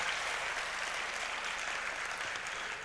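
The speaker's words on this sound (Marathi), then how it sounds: "त्यांच्यासाठी सर्वांनी एकदा टाळ्या वाजवाव्यात" An auditorium audience at a magazine's golden jubilee event applauds in a dense, steady wash of clapping that holds at an even level from start to end, with no voices over it.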